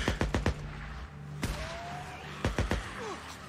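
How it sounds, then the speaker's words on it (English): Gunfire in the video game Days Gone: a quick burst of sharp shots, then single cracks and another short volley, fairly loud against a low ambient hum, with no talk. "I hear gunshots"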